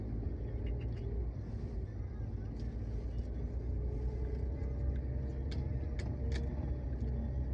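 Cars idle and creep in a traffic jam near Pasar Betung on the eastern cross road, heard as a steady low engine rumble close by, with faint higher hisses of passing traffic on top.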